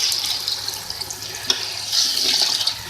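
Water from a tap or jug pours steadily into a cooking pot of chicken pulao, a continuous splashing rush with no voices.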